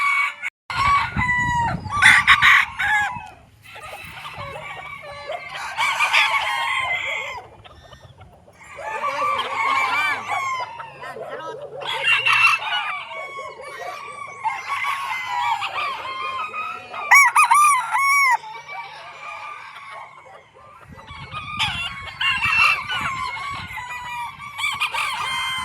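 Chickens and roosters in a backyard in the Philippines, with several roosters crowing in turns and clucking between calls, fairly close and loud, continuing throughout with no talk.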